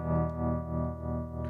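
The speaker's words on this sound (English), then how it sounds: "I'll show you the range of the tremolo" Electric guitar through a Princeton Reverb-style amp with tremolo engaged, a sustained chord pulsing in slow, even swells of volume, alone with no talk.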